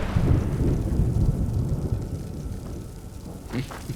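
Thunder in the Skyrim video game: a deep rolling rumble with rain-like hiss, loud at first and fading over a few seconds, followed by a couple of faint sharper cracks near the end.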